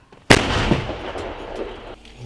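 A single loud, sharp artillery blast in combat near Marinka, Ukraine, with a booming report that rings out and decays over about two seconds, standing alone without speech.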